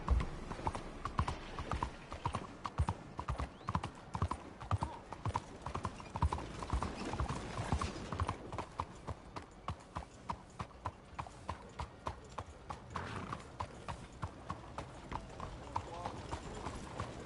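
Horse hooves in Red Dead Redemption 2 clip-clop in a steady rhythmic patter for the whole stretch, loud at first and easing slightly later, while voices talk over it.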